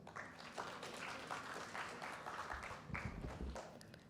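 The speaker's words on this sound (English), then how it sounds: "giving them a big round of applause" An audience at a children's poetry gathering, Bal Kavi Sammelan, claps for the participants, a dense, moderately loud wash of applause sustained throughout with faint voices mixed in.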